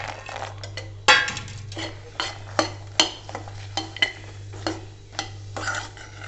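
Fox nuts (makhana) stirred into melted jaggery in a pan with the gas off, a spoon scraping and clinking against the metal in repeated sharp strokes over a low steady hum, no talking.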